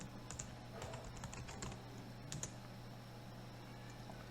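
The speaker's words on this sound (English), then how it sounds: "I will type password" A password being typed on a computer keyboard during a Moodle installation, with quick, light key clicks in short bursts over a steady background hum, close but quiet, with no voices.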